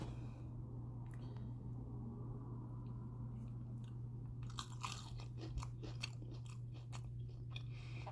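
Quiet close-up chewing and crunching of chicken wings and cup noodles at dinner, soft irregular bites and squishy mouth sounds over a steady low electrical hum, with no talking.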